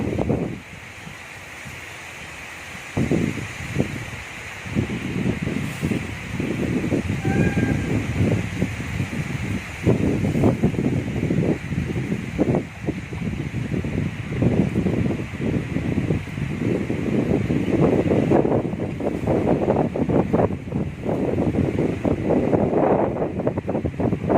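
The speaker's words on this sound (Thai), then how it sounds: "ลมหนาวมาเยือนแล้วลมก็แรง" Strong, cold winter wind gusts and roars in broad, rumbling surges that rise and fall, buffeting the microphone loudly and steadily without any speech.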